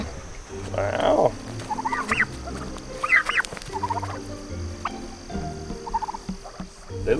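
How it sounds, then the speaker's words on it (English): Turkeys on a farm property, with ducks nearby: several bursts of gobbling and fowl calls spaced across the stretch, fairly close, over a low steady background hum, with no talk. "he goes running across the back of Laura's property to see her turkeys and"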